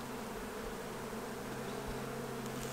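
Italian or Carniolan honey bees hum in a dense, steady buzz inside a hive, close up and quiet, with no voices.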